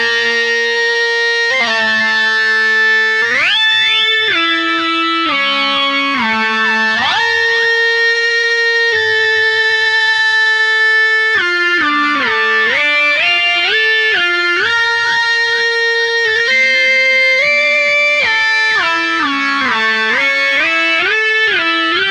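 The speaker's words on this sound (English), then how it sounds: "And the extra tool that I use for this sound is my sustainer on my guitar itself, so I don't have to pluck the strings." Electric guitar run through a Phase 90 with a string sustainer plays a synth-like lead line of long, smoothly sliding held notes, loud and up close without talk.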